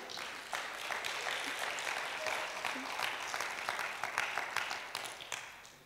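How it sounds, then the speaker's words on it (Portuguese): Church congregation applauding during a sermon, a moderately distant, steady patter of many hands clapping with some sharper individual claps, continuing for several seconds. "dê uma salva de palmas a Jesus"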